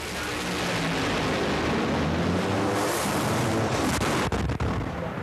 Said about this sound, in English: That was a pretty big explosion from Troy Buff.